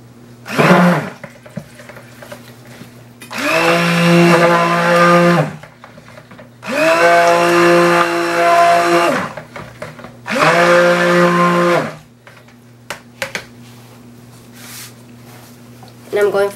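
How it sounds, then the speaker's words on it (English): A stick blender mixing soap whirs in three loud bursts of a few seconds each, its pitch dipping as it works, with quieter pauses between. "Okay, so now I'm going to mix the colors with the stick blender."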